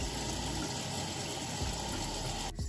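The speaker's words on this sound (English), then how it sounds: "and then I'm gonna rinse it off" Running tap water rinsing off a face during a skincare routine, a steady close splashing gush that stops briefly near the end.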